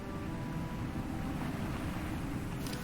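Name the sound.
waterfall in the video game FEZ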